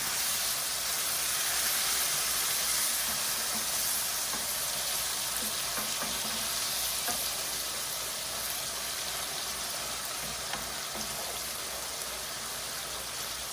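Mushroom risotto sizzles steadily in a pan on the heat, a continuous close frying hiss that holds without a break.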